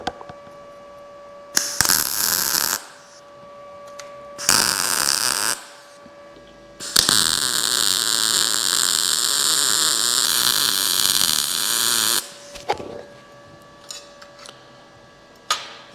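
An Arccaptain welder runs beads on a steel T-joint: three separate bursts of loud, crackling arc hiss, the last and longest lasting about five seconds, with quiet gaps and a faint background hum between them.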